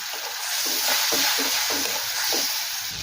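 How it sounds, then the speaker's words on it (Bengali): Ginger paste with cumin, turmeric and red chilli powder mixed in water hits fried onions in a pan, giving a loud, steady hiss and sizzle with occasional stirring scrapes throughout. "পেঁয়াজ ভেজে নিয়েছি, এখন দেবো আদা বাটা, জিরে গুঁড়ো, হলুদের গুঁড়ো, লাল লঙ্কার গুঁড়ো জলের মধ্যে গুলে নিয়েছিলাম, ওটা এখন দিয়ে দিয়েছি।"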